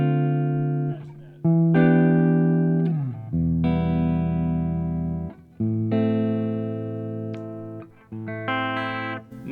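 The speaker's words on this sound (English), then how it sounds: "It's got some clean tones." A PRS Fredrik Akesson signature electric guitar plays clean tones, a series of sustained ringing chords and notes that are picked one after another, each decaying before the next strike, with no talking.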